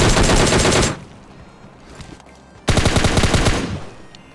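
Automatic gunfire bursts out loudly in a shooter video game as an enemy is knocked down: a dense rapid burst, a brief lull with faint sounds, then a second sustained burst.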